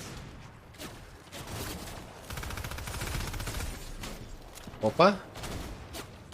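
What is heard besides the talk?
gunshots in a video game shooter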